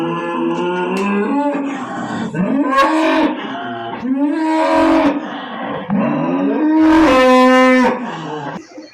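Cattle on a village farm moo repeatedly, with long, loud, drawn-out calls that rise and fall, several overlapping closely with no talking.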